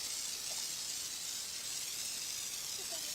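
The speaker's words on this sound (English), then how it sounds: "I'm going to spray this" Continuous steady hiss of an aerosol spray paint can, broad and unbroken for the whole stretch, fairly loud and close.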